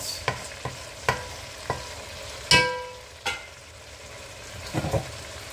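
Oxtail and white cabbage cooking in a pan with no added water, giving scattered soft sizzles and a few sharp stirring clacks against the pan, close and fairly quiet, with no talk.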